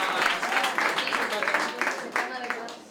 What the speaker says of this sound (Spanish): Lo único, un aplauso.